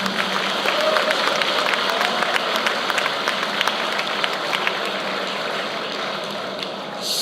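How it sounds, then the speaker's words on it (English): Steady, sustained applause from an audience at the opening of Eduard Alexander Gummels International Airport, honoring the builders, with dense clapping that stays even throughout and no speech. "Please applaud them once again"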